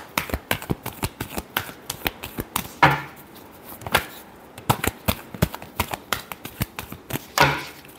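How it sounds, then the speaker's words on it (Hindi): Tarot cards are shuffled in quick, crisp riffling clicks and flutters, close and loud, with a couple of louder slaps as the deck is squared. "Last shuffle."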